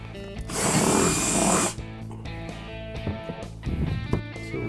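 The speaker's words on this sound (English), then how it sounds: "we need to drill this hole out" A power drill with a 3/8-inch bit whirs up loudly and bites into material for about a second, then runs on in a lower, rougher grinding whine, drilling a bolt hole on a Club Car Precedent golf cart rear seat kit.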